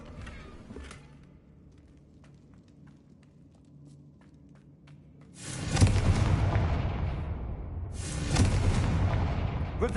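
Confringo fire spell explosions in Hogwarts Legacy: after quiet footsteps, a loud roaring blast erupts and rumbles, followed a few seconds later by a second explosive burst, both close and heavy.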